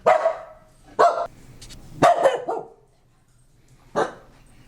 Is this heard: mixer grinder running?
no